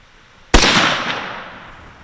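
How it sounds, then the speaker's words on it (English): A single sharp gunshot from a gun fired at a target bursts out loud and close after a quiet moment, then its echo rolls away and fades over the next second and a half. "That was your first time you ever shot a gun."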